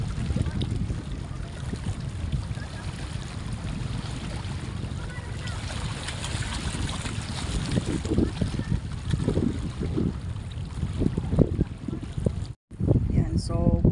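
A small motorboat at the Baler fish port, its engine running steadily as it pulls away, with wind buffeting the microphone and people talking nearby.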